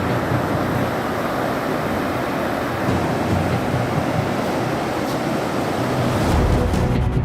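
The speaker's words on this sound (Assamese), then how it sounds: "আহি আছে সাগৰীয় ধুমুহা নিসৰ্গ" Rough sea surf whipped up by an approaching cyclone off the western coast, a loud continuous wash of crashing waves mixed with wind buffeting, steady throughout with no voices.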